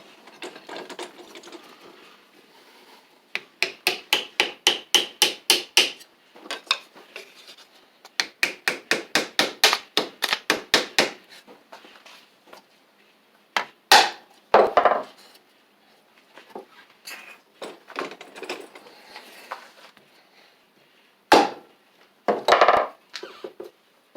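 Sharp metallic hammer blows strike a Briggs & Stratton flywheel to knock it loose, coming in fast rhythmic bursts of a dozen or so rapid taps, then scattered heavier single hits, close and clear in a quiet workshop.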